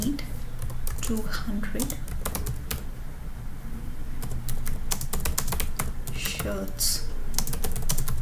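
A computer keyboard clatters with rapid, uneven keystrokes in close, clear bursts over a steady low background hum, while a voice talks briefly at the start.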